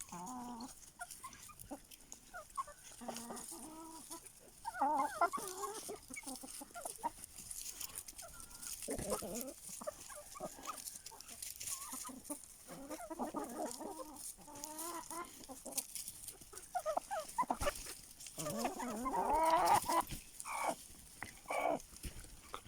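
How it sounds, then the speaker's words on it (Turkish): Aseel hens and a rooster cluck and murmur continuously nearby, with occasional louder squawks and calls among the flock, no talking. "Nazcan Tavuklara bir kabarıyor ya"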